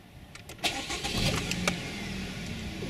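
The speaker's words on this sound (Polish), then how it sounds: "I zapalimy Hondę. Damy ją na wolne obroty." A Honda car engine cranks, catches and settles into a steady idle, the starter whir giving way to an even, close running hum with no one speaking.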